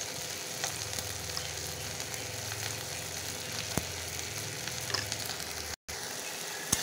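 A spice paste of turmeric, chili, coriander and cumin powders fries in a pan for an apple chicken dish, giving a soft, steady sizzle with a few faint ticks and scrapes, heard alone and close.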